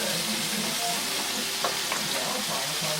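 Capsicum and tomatoes sautéing in oil, a steady broad sizzle with occasional stirring scrapes and pops, close and continuous without voices.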